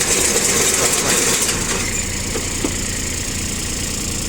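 A round baler lowering hydraulically while a tractor engine runs steadily at idle nearby, a loud continuous mechanical drone with faint clunks and a slight shift in tone partway through.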